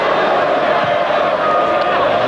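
A football stadium crowd at a 1998 World Cup qualifier between Croatia and Greece keeps up a dense, steady roar, loud and unbroken throughout with no clear peaks.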